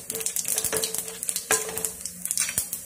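Mustard seeds sizzle and crackle in heated oil in a home kitchen pan, with sharp pops scattered through a steady high hiss and a few utensil clinks while preparing red jowar paniyaram batter seasoning.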